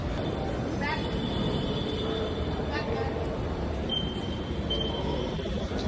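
A metro train at a Bangalore metro station platform, a steady broadband rumble with brief squeals and tonal beeps over the top, heard close by and continuously.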